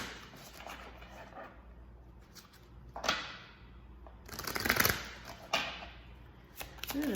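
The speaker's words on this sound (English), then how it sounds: "I'm gonna give the deck a few shuffles" A deck of Kipper cards is shuffled in a few quiet bursts, soft riffling rustles separated by brief pauses, close and alone.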